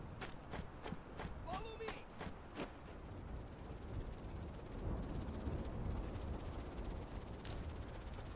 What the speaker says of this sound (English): that is a cricket